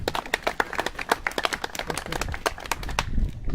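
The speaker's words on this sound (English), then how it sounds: "Please give them another round of applause to help them feel comfortable." Wedding guests at a marriage ceremony clap for the couple, a brisk patter of many hands close by, steady for a few seconds and swelling slightly toward the end.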